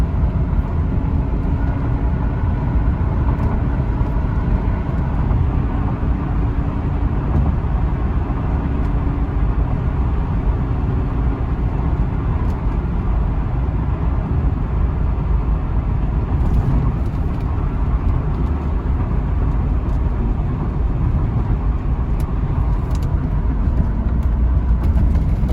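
A 2004 Chevy Corvette Coupe drives along, its engine a steady low rumble with road and wind noise filling the cabin as it shifts up through second, third and fourth gears.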